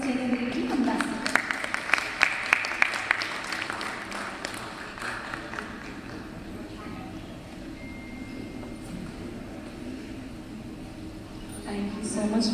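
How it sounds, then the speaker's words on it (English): Loud audience applause fills the hall at a Gulf Green Summit event in Dubai, with a burst of sharp claps early on that settles into a steady, dense wash of clapping for the full stretch. "Huge round of applause from the audience."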